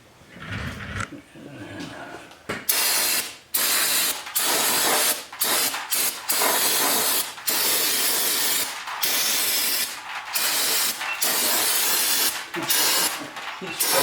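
Brake cleaner sprayed onto the brakes of a C5 Corvette in a garage, loud close hissing bursts of aerosol repeated in a quick series of presses with short pauses between them.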